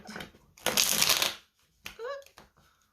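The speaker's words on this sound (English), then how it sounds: "That was a really bad shuffle on my part." A quick riffle of tarot cards fluttering together, followed by a few lighter shuffling taps and card slaps, close up.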